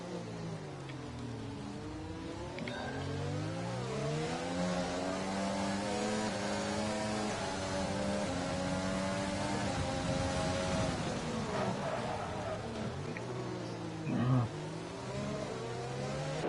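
F3 race cars accelerate on the Singapore street circuit, several engines revving and shifting with rising and falling pitch as they pass through gears, steady and moderately close, with a short thump near the end. No talking.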